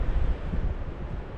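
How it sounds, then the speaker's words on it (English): Gusty wind blows across the back side of Glenridding Dodd, a steep fell, buffeting a close microphone with low rumbling surges for a moment, no voices. "you can hear it's getting a little bit windy around the backside of the mountain"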